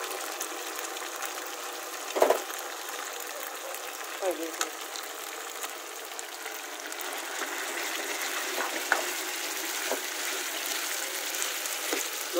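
Chhuchh saag greens, foraged from a riverbank and cooked the traditional way, frying in a pan with a steady, moderate sizzling hiss, punctuated by a few soft clinks and stirring knocks.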